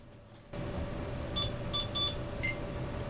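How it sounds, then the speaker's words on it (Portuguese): A Logic AU912 computer powering on gives a handful of short, high electronic bips and bloops in a quick irregular sequence over a steady fan hum, with no speech. "Ele faz pequenos bips e bloops."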